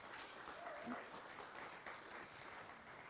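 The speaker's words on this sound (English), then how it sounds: "let's give that a round of applause" Audience applauds a women's basketball world ranking, a quiet, distant patter of clapping from a crowd with faint voices mixed in.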